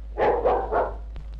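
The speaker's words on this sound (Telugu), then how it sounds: "కేవలం ఒక కుక్క, దీనికి కూడా తెలుసు ఇది నా బంతిని వేస్తే తీసుకురావాలి అని" A dog barks three times in quick succession while playing fetch with a ball. The barks are close and fairly loud, and a couple of faint short sounds follow them.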